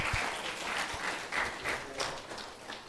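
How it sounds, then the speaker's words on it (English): A Sunday feast class audience gives a big round of applause, steady dense clapping with a few louder claps near the start, sustained for about three seconds. "Please give them all a big round of applause."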